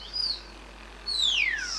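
Pigeons kept as a hobby flock fly overhead, giving two bright chirping calls, one short and one sweeping downward, faint against a quiet background.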